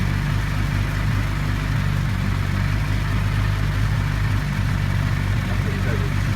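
Mini Marcos car engine running steadily at idle, a close, loud, even rumble throughout with people talking over it.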